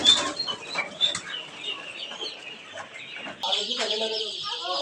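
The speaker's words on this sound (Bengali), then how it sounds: "এটা হচ্ছে ব্রাহ্মা মুরগি অরিজিনাল" Brahma chickens about six weeks old clucking and squawking close by, with overlapping calls throughout and a louder, sustained burst of cackling near the end.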